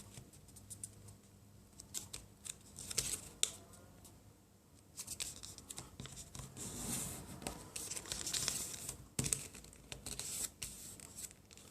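Origami paper for a heron being folded and creased by hand, with crisp rustling, rubbing and tearing-like crinkles in close, uneven bursts, growing busier toward the middle and end of the clip.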